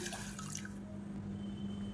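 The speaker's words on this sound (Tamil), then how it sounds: "இப்போ இதில் தண்ணி சேர்த்துக்கலாம்." Water pours into a metal pressure cooker for pongal, with splashing trickles at first, then settles to quiet dripping and a faint low hum.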